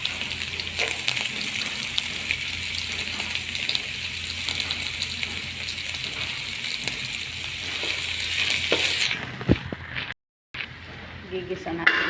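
Garlic sizzles in hot oil in a pan for chicken adobo, a steady close crackling hiss that continues with a brief dropout near the end, and no talking.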